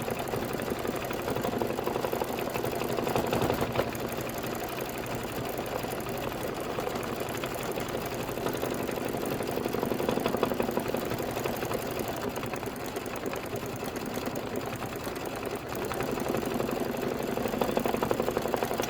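An embroidery sewing machine stitches a tack-down line on felt for a Kimberbell pie design, a steady fast mechanical whirring and chattering that runs continuously, close and even, with slight swells in loudness.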